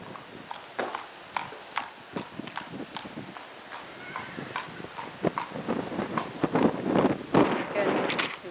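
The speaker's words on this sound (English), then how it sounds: "So then I'd look at the horse trotting away from me and then trotting back towards me." A horse trots away and back on firm ground during a lameness assessment, its hooves clip-clopping in a steady two-beat rhythm with light wind noise, growing louder as it comes closer.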